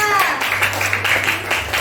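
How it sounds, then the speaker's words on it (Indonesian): Children in a classroom clap together for a classmate, a steady dense patter of small hands that carries on at moderate loudness with some voices mixed in. "kasih tepuk tangan dong untuk Mbak Kaila"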